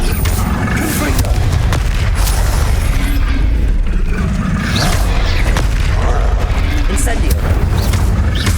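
Confringo fire-blast spells erupt in Hogwarts Legacy combat as loud, booming explosions repeat one after another over a dense, roaring wash of battle noise.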